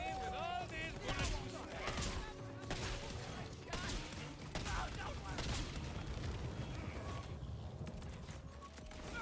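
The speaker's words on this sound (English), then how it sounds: "Gunfire!" Busy, dense video game gunfire with repeated bursts and booms rattles over mechanical clanks, crashes and music, continuous and loud throughout with talk mixed in.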